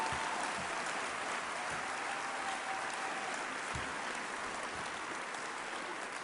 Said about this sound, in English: just give them a big round of applause and some encouragement